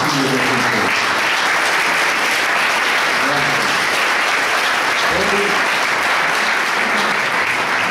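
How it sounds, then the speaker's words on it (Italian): Dense, sustained audience applause after a mayoral candidates' debate in San Lazzaro, with many hands clapping evenly and loudly for the whole stretch and brief voices faintly underneath. "Se volete proprio fare un applauso, fatelo a tutti coloro che a vario titolo hanno reso possibile questo incontro."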